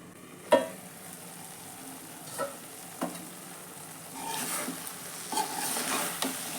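Rice button and sweet corn gravy simmering in a pan, with a faint steady bubbling and a few soft stirring knocks scattered through, quiet and close.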